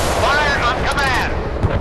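Warship cannon fire in the naval combat video game Force of Warships, a loud, sustained blast of gunfire with a rolling boom filling the short clip.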